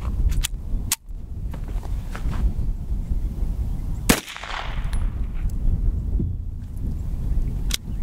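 A Type 14 Nambu pistol fired at a shooting range: a few sharp, loud reports stand out over a constant heavy rumble of background noise, with gaps of several seconds between them.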